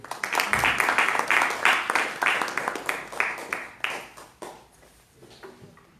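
An audience claps in sustained applause at a family-themed church talk, loud and dense at first, then thinning out and fading toward the end.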